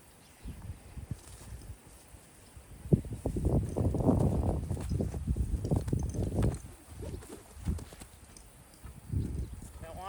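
Horse hooves clip-clop on the ground as the animal is led step by step by each hoof, the footfalls fairly close and uneven in rhythm, with a person talking over them.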